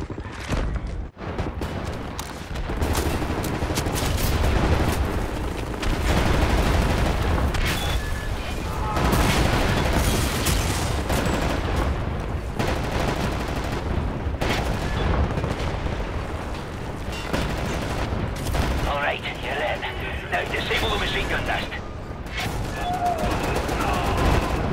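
Sustained heavy gunfire in the VR shooter Wolfenstein The New Order, dense bursts of automatic fire and booming shots rolling on almost without pause, loud and close, with voices faintly underneath.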